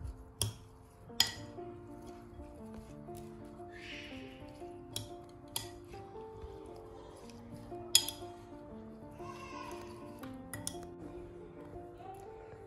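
A capsicum salad being mixed in a bowl, with clear utensil clinks and taps at irregular intervals over a soft scraping, tossing background.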